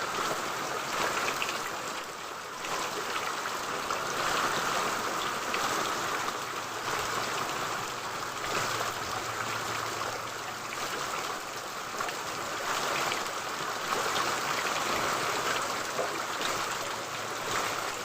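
Steady downpour drums on a village cotton field, a thick continuous wash of raindrops with slight swells in intensity, close and loud, no talking over it.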